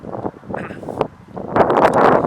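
Gusty wind buffets the microphone in uneven rushes, rising louder toward the end, with a faint rustle behind it, beside the Neajlov River while fishing in February.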